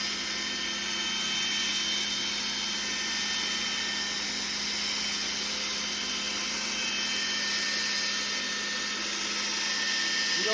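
A Harvey bandsaw cuts through a board, giving a steady, loud mechanical whine and hum with a constant broadband hiss that holds unbroken throughout, with no voices.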